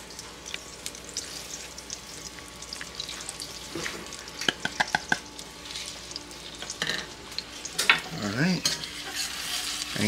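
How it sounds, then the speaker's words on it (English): Butter and spices cooked into a curry roux in a pan for katsu curry, stirred constantly: close, steady sizzle with repeated clicking scrapes and taps of the utensil, growing busier toward the end, with no voices. "you just keep stirring with the butter and see the roux thickens up"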